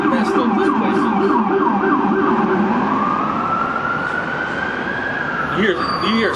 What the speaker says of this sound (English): You hear sirens all day long out here.